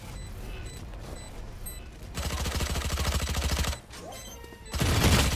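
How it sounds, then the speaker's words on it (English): A Spectre fitted with a drum magazine sprays bullets in Valorant. It fires loud, rapid automatic bursts: a short volley, then a long sustained stream of shots, a brief lull and another heavy burst. "I just counted that he sprayed 50 bullets, but he still got more"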